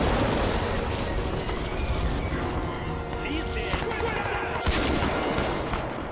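Gunfire in the shooter game Crysis 2, dense rapid shots and bursts layered under continuous talking, loud and busy across the whole stretch.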